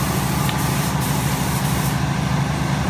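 An airless sprayer lays metal flake paint onto wall lighting sconces, giving a steady, loud low hiss and mechanical hum that runs unbroken throughout without pause.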